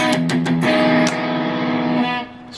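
Enya Nova Go Sonic guitar played through a distortion effect, a few choppy muted strums followed by a sustained, buzzy chord that rings out and fades near the end.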